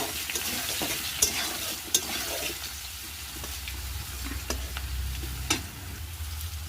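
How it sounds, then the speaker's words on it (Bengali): Potatoes fry in a wok with a continuous close sizzle while a spatula stirs them, adding a few sharp clicks and scrapes over a low rumbling bed of hot oil. "কড়াইয়ের মধ্যে আলুগুলো দিয়ে দেবো, ভালো করে নেড়ে চেড়ে"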